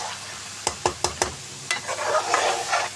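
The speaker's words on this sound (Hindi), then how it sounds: "अब देखिए अंडों को भी हमने आलूओं के साथ थोड़ा सा इसकी बुनाई करनी है" Boiled eggs and potatoes being stirred in a spiced masala in a pan, with a few distinct sharp scrapes of a spoon followed by a soft, close sizzle.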